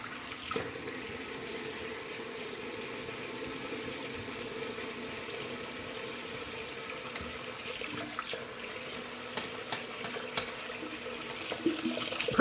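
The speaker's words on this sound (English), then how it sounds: "Now you guys will hear a little bit of sink noise." Hot water runs from a sink tap in a bathroom to heat a razor blade for shaving, a steady soft rushing stream with a few small clinks near the end.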